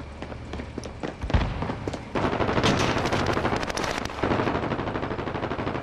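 Dense automatic gunfire in Call of Duty: Modern Warfare, a sustained loud stream of rapid shots with a sharp burst near the start and fire continuing nonstop through to the end.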